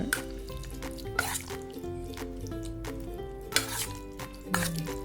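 Wet stirring and squelching of marinated chicken pieces in a bowl, with a few clinks of a utensil against the side, close up with no talking.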